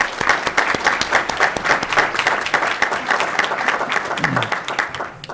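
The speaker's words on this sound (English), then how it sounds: "Let's give her a round of applause." A school board meeting audience applauds a high school choir performer with continuous, full clapping from a sizeable crowd throughout, tapering slightly at the end.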